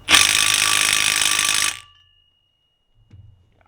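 An impact wrench hammers at rotor bolts on a 2013 Chevy 3500 in one loud, steady burst of nearly two seconds, then cuts off, followed by a faint clunk.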